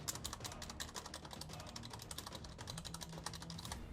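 Rapid key presses on an HP Omen Spacer TKL wireless keyboard, including the unlubricated spacebar, rattle in a quick uneven clatter close to the microphone with no talking.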